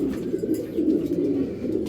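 A male pigeon coos close by among pigeons kept for sale, a low, throaty, rolling murmur that rises and falls continuously for a couple of seconds with no voices over it.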